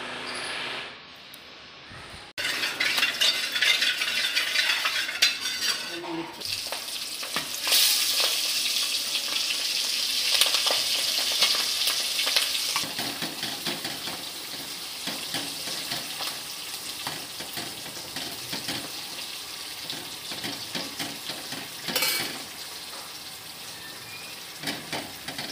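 Chickpea snacks frying in hot oil give a steady, close sizzle with bubbling crackle, rising and falling slightly as they are stirred, with no voices over it.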